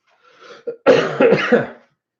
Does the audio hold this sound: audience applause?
no